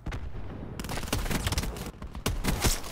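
Repeated loud blasts of an incendiary dragon's breath shotgun in a Call of Duty match, heavy booming shots with short gaps between them over constant game noise.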